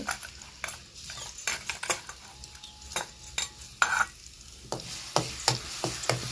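A ground paste of green chili, garlic and cumin is stirred in hot oil with a spoon scraping the pan, giving repeated sharp clinks and scrapes over a soft sizzle.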